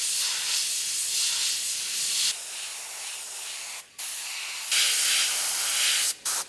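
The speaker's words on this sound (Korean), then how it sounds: "입술이나 뭐 이런 데 좀 세밀한 데 그리는 스프레이" A fine-detail spray tool for painting lips and other small makeup details on a mannequin at a Korean mannequin factory gives a steady, close airy hiss, with a brief pause near the middle and another short break near the end.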